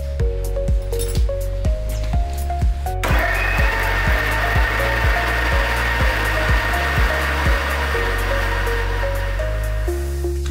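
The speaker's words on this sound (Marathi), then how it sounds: "तर आता आपण हे मिक्सरला बारीक करून घेऊया।" A mixer grinder whirs loudly as it grinds chickpeas, tomato, garlic, ginger and chillies, running in rhythmic pulses with rattling clinks, then a long continuous high-speed grind.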